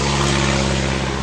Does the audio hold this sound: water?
no